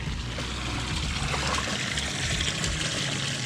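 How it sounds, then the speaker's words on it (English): A few hundred litres of water being emptied out of a fishing boat at Bynoe Harbour, a continuous splashing trickle and gush at close range with no talking. "We're just emptying a few hundred litres of water out of the boat"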